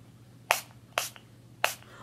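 Three short, crisp bursts of makeup setting spray onto a brush, each a quick hiss, spaced about half a second apart over a quiet background.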